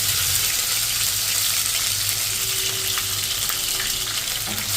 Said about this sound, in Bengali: একদম হালকা করে কিশমিশগুলো ফ্রাই করি